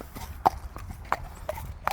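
A horse's hooves clip-clop outdoors, four distinct, fairly close strikes at an uneven walking pace over quiet background.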